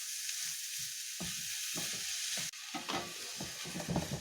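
Meat browning in a hot pan for samosa filling gives a steady close sizzle, with scraping stir strokes throughout and a brief drop in the hiss midway before frying resumes.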